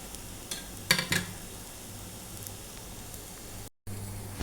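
Ghee roast dosa sizzles softly in a pan as a spatula stirs and scrapes it, with a few sharper scrapes early and a brief silent gap near the end.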